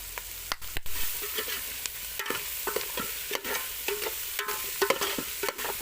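Pork fries in a pan while a spatula stirs it, giving repeated sharp scraping knocks in an uneven rhythm over a steady sizzle, close and clear with no talking.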